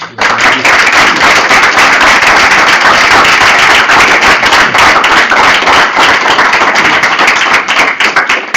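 Loud, sustained applause from an audience at a master thesis presentation session, dense continuous clapping filling the room from start to finish.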